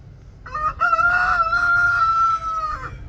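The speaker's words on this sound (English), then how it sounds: "You don't need to crow." A rooster crows on a farm, one loud, close, drawn-out cock-a-doodle-doo lasting over two seconds above a low background rumble.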